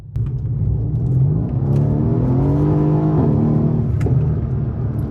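A Mercedes C63s (W205) accelerates hard from inside the cabin, its engine note rising steadily in a loud continuous roar, a brief dip marking a quick downshift before the pull resumes, with a few thumps from bumpy pavement.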